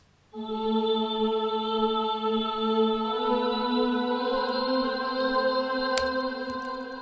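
A muffled male choir 'ooh' pad from Logic Pro's Alchemy synth, played dry with no effects, holds a steady sustained chord for about seven seconds, with no talking.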